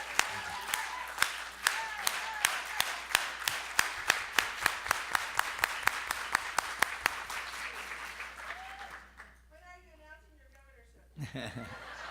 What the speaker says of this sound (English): Yeah, let's give him applause. Give applause.